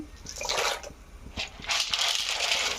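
Water and dried pasta poured into a cooking pot for boiling in a home kitchen, a steady splashing gush lasting a few seconds with a brief lull midway.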